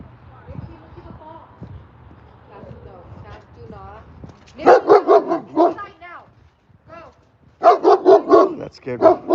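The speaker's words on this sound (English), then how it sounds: "That dog scared the shit out of me." A dog barks in loud, rapid bursts of two clusters, close by, after a stretch of quieter background sounds and faint voices.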